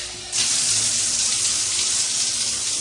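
A hotel shower set to a hard spray starts suddenly, a dense hissing rush of water that continues without pause.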